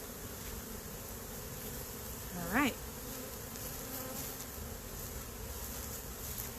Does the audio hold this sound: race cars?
no